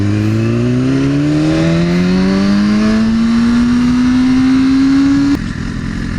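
A Porsche 911 Turbo S accelerating hard, its engine note climbing steadily and loudly through one long gear, then dropping sharply at a shift near the end.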